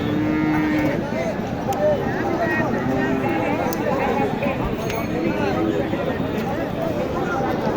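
A Sahiwal heifer moos amid a busy outdoor crowd at the Matajihat cattle market in Naogaon, Bangladesh, with chatter and general market noise all around.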